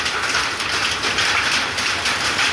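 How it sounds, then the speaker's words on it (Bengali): Heavy hailstorm in Illambazar, Birbhum, pounding down as a dense, steady roar of impacts that stays loud and unbroken throughout, with no voices. "সাংঘাতিক শিলাবৃষ্টি।"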